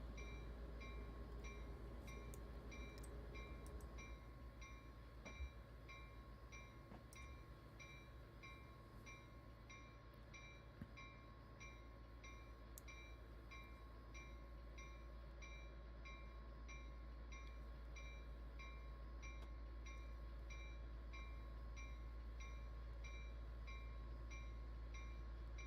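A train runs on the Marias Pass route in Train Simulator Classic, with a steady low engine rumble and constant tonal drone plus a few faint clicks throughout.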